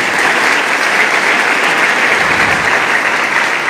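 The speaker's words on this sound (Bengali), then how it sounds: "একটা জোরে হাততালি দাও।" Loud, dense applause from a crowd of students at a school event, steady and sustained throughout with no talking.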